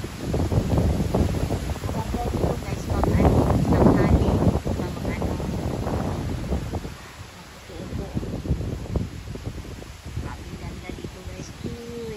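Strong wind buffets the microphone in a steady roar that rises and falls, while people talk over it outdoors in a park in Japan.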